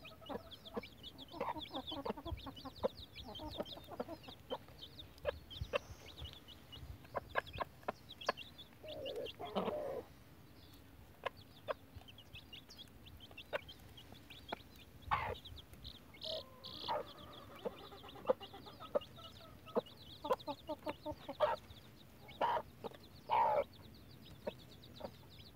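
Five-day-old chicks peep continuously beside a hen's low clucking, a busy close-range chorus of high chirps with occasional louder calls throughout.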